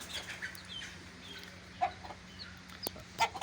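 Sparse, quiet clucks from chickens, a few short calls spaced irregularly over a low steady hum.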